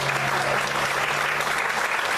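A church congregation applauds steadily, a dense, loud clapping of many hands filling the room without break.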